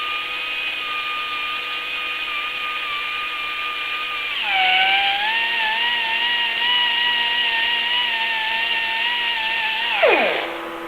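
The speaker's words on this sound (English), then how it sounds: "we want to take our die grinder and we want to clean that off." Die grinder cleaning the factory coating off a steel patch panel for a 1964 Pontiac Grand Prix door repair, a steady high-pitched whine that drops in pitch under load midway, then winds down at the end, close and alone.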